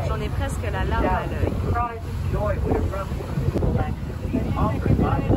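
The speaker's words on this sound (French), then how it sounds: "Il y a beaucoup de vent, j'espère que vous entendez." Strong wind buffets the microphone near the Statue of Liberty in New York, a steady low roar running throughout with a voice talking over it.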